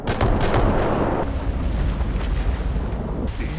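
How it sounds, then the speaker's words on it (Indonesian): A loud, rumbling explosion bursts out, then rolls on as a heavy, sustained roar with debris-like noise filling the air. "Mike yang sedang mengisi BBM mendengar ledakan"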